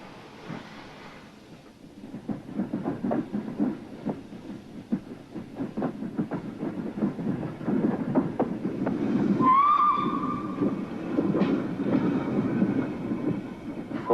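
A train rumbles steadily with low grinding and clattering, and a brief high metallic squeal cuts through midway before the rumble continues.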